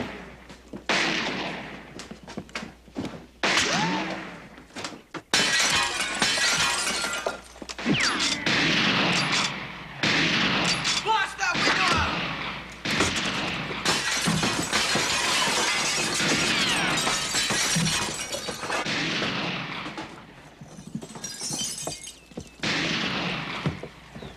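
A chaotic shootout in a 1989 Western film: almost constant gunfire mixed with glass shattering and breaking, loud and dense for more than twenty seconds, with only brief gaps.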